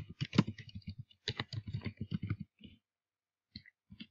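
Close-up bursts of keyboard typing, quick irregular key clicks in two clusters separated by a short pause, followed by a few isolated taps near the end, with no voices.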